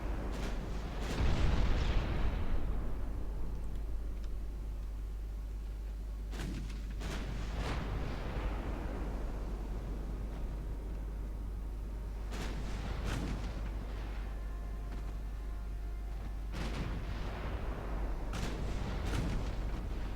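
Naval guns of 1910-era German warships firing in the naval strategy game Ultimate Admiral Dreadnoughts, with heavy booming shots in spaced bursts, some in quick pairs, over a low steady rumble.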